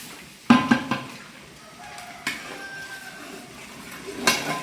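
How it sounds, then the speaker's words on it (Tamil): Semolina for wedding-style kesari stirred over a slow flame in a heavy uruli pan, with several loud metal ladle knocks and scrapes against the pan over quiet background, close by with no talk. "ஸ்லோ தீயில நம்ம கிண்டிக்கிட்டே இருக்கணும்."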